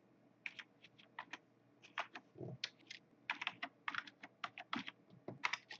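Quick, close clicks of someone typing Python code on a computer keyboard, irregular bursts of keystrokes with short pauses, quiet and with no talk.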